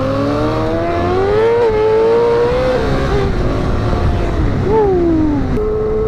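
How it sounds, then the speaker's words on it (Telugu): An R6 motorbike with a modified exhaust revs loudly nearby, its engine note rising and falling in long throaty sweeps and one sharp blip before settling into a steady idle. "R6 ఎగ్జాస్ట్ మార్పిచ్చిండ, నా చెవులు అయితే పగిలిపోతున్నాయి."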